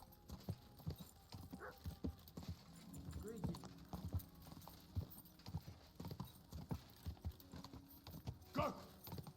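Hooves clip-clop in a quick galloping rhythm in the video game Kingdom Come: Deliverance 2, with a horse whinnying briefly and people shouting excitedly over it.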